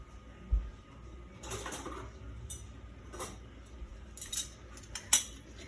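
Metal canning jar rings clink and clatter against each other while being gathered for jars of sweet cucumber relish, a few scattered light metallic knocks up close with one sharp clink near the end.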